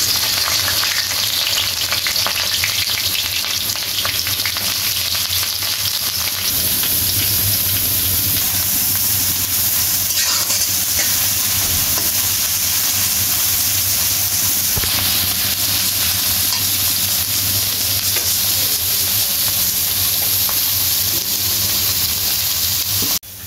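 Onions fry in a pan with a dense, loud, unbroken sizzle and hiss, light stirring underneath, lasting the whole stretch before stopping abruptly at the end.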